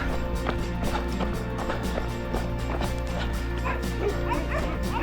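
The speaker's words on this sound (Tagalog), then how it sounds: "So, ang lalaki ng mga aso." Big dogs bark repeatedly and fairly loudly along a trail in Taif, with yips and whimpers mixed into a continuous run of barking, while a person talks faintly underneath.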